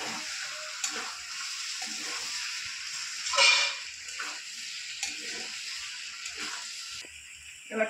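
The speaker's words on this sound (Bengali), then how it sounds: "এঁচোড়টা কষানো একটু কষিয়ে" Jackfruit sautéing in a pan, a steady broadband sizzle with occasional stirring scrapes and clatters, fairly close and moderately loud, no voices.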